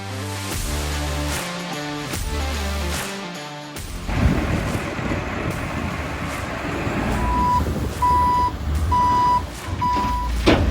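A dump truck backs up on a muddy rural site, its heavy diesel engine rumbling loudly while a regular reversing beeper sounds four evenly spaced tones in the latter half.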